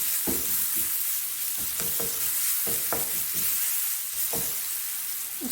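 Three crushed garlic cloves fry in a pan with a steady sizzle while a utensil stirs and scrapes in irregular clicks, close and alone with no talk.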